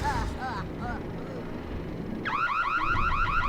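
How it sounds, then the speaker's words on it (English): In Super Mario Galaxy, a rapid warbling siren-style alarm cuts in loud after a brief earlier chirp, repeating steadily over a low rumbling game background. "Alarms."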